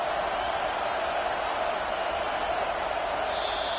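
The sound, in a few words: stadium crowd cheering for defense on third down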